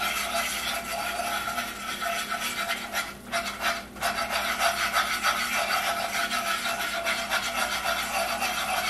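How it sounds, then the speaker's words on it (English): Continuous scraping and rubbing of a whisk blending roux for gumbo in a pot, a close, steady rasping texture that briefly pauses midway before resuming, with no talk. "what this whisk does is it blends it. You don't want lumpy roux."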